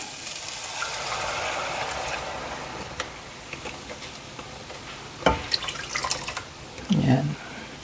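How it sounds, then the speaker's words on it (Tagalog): Water poured into a pot of corn soup (suam na mais) in a home kitchen makes splashing and dripping sounds that build toward the end, close by, while a voice talks intermittently. "Lagyan ko na rin ng tubig."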